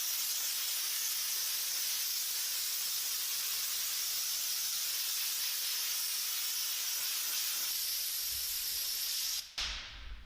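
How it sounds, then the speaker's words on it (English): Compressed air blasts steadily at a car tire to dry it, a loud continuous close hiss that holds for about nine seconds before cutting off abruptly, followed by faint handling noise. "So we're going to use compressed air here."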